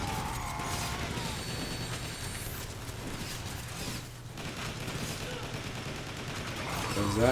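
Rapid weapon fire from Transformers: War for Cybertron crackles in dense bursts with mechanical clanks and crashes, loud and continuous, with speech mixed in.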